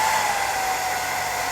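A W 811HD 900-watt hair dryer runs on its cold-air setting, giving a loud, steady rushing blow with a faint tonal whine, continuous and alone.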